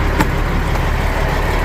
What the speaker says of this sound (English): drowned out all the noise of those trucks as we were going by them